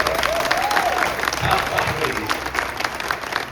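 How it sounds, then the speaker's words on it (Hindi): Loud audience applause at a TV show's fourth anniversary celebration, a dense steady wash of clapping with some cheering, while a voice carries on speaking over it throughout. "तो बहुत जोरदार तालियां बजाई दीजिए।"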